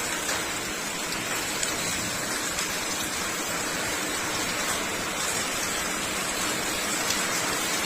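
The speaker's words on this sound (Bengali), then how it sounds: "প্রচুর বৃষ্টি পড়ছে" Heavy rain pours steadily, a dense even hiss of falling water that stays constant and fairly loud throughout, with no voices over it.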